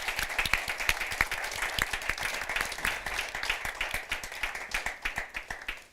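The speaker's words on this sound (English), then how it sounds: "I think we should give a round of applause to the panel." Audience applause for a conference panel at a global health event, dense steady clapping throughout that thins slightly toward the end, moderately loud and without talk.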